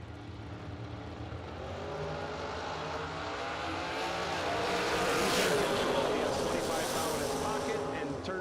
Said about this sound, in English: we'll go with Tony Mazza in the right lane, dialed 526 in a very fast Camaro.